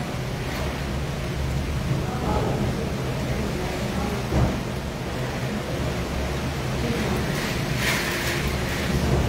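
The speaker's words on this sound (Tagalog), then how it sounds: "Grabe ginatong hangin" Strong wind during a large, terrible storm roars as a steady, dense broadband rush with gusting surges and buffeting, continuous and close throughout.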